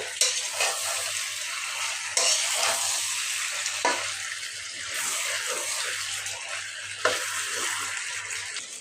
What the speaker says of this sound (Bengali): আমি সবজিগুলি ভালোভাবে নেড়ে ছেড়ে কষিয়ে নিচ্ছি